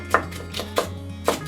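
A knife cuts green bell peppers into thin strips for kinpira on a cutting board, sounding as three crisp chopping thuds spaced evenly apart against a soft background hum.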